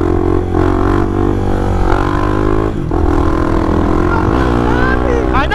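Honda XRE 300 motorcycle, brand new, ridden on the road, its engine a steady loud drone with shifting pitch as it revs, with a brief dip near the middle, heard close throughout without talk.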